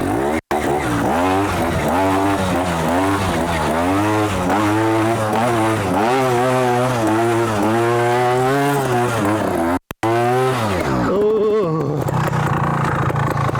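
A trials motorcycle on worn, softened tyres runs in third gear, its engine close and loud with revs climbing and dropping in waves, a brief cut near the end before the note thins out.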